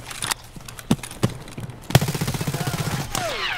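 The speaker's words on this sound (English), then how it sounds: "Your bullets were ricocheting past." Gunfire in Escape from Tarkov, scattered sharp single shots followed by a loud burst of rapid automatic fire, with whizzing, sliding ricochet tones near the end.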